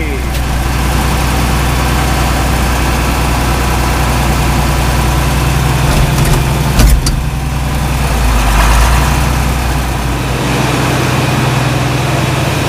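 Tractor engine running after a cold start, a loud, steady low-pitched idle with constant vibration close by, brief clanks partway through, and faint talk underneath.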